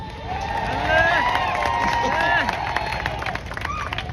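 A crowd at a Shivaji Maharaj Jayanti bodybuilding competition, Swarajya Sena Shri 2025 in Shirdi, cheers and whistles with shrill rising calls and scattered claps in a continuous roar, under a voice talking nearby.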